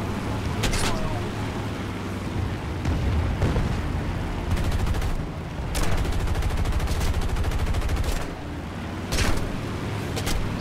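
The tail gun of a B-25 Mitchell bomber in the air combat game War Thunder fires in repeated rapid bursts of machine-gun fire over steady engine drone, with a voice talking.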